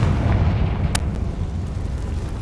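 A Confringo spell blast in Hogwarts Legacy, a rumbling explosion with a sharp crack near the start, then a lingering low roar that slowly fades.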